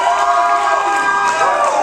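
A live audience at a haiku deathmatch cheering and whooping loudly, with shouting voices dominating over some clapping in a short, continuous burst.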